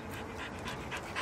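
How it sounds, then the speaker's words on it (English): A dog panting in quick, soft, rhythmic breaths, fairly quiet and close, with no talking over it. "Come here, dog."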